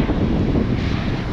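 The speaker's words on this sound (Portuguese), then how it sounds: "Muito vento mesmo" Strong wind gusts buffet the microphone at a scenic lookout in the Seven Lakes region, producing a loud, continuous low rumble and roar with no voices.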